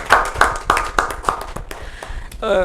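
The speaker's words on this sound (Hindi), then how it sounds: "तो एक बार इनकी अर्धांगिनी के लिए, इनके बेटर हाफ के लिए भी एक बार जोरदार तालियां।" At an honoring event for an eye surgeon, a few people clap in a slow, rhythmic series of distinct hand claps, close and fairly loud, with a voice starting to speak near the end.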